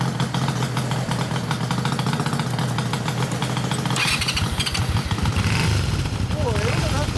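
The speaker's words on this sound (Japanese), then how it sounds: "おー、エンジンなってるやん、V2 の。" A 1996 Honda V-Twin Magna motorcycle fitted with a D+Racing exhaust runs close by, holding a steady, throbbing low rumble throughout while people talk over it.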